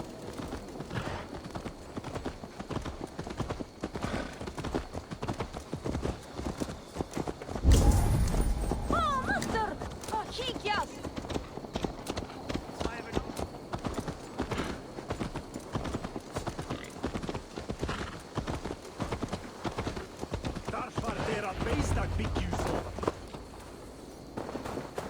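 Horse hooves clip-clop in a rhythmic walking pattern in the video game Assassin's Creed Valhalla, with in-game voices talking over the hoofbeats and a brief sharp burst partway through.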